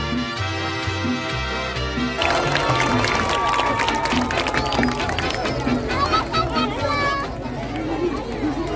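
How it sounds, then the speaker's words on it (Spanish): A crowd at a Christmas toy handout for children in Colón bursts into loud, dense applause after a short stretch of music, with clapping and children's voices continuing steadily to the end. "Un fuerte aplauso para ustedes."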